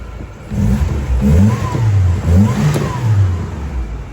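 The Iron Duke four-cylinder in a Grumman LLV mail truck revs up close, with several rising and falling throttle blips over a rough idle and no voices.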